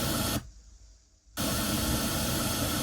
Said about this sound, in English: So is it with the pink noise?